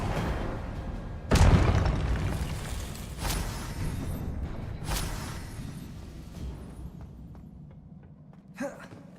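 Expelliarmus spell cast in the video game Hogwarts Legacy, a loud whooshing boom bursting out near the start, followed by fainter magical impacts and a short pop near the end.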